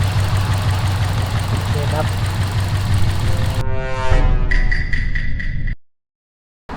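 A car engine with an injector fault idles steadily with a low rumbling hum, then a brief higher whine and rattling before the sound cuts off near the end.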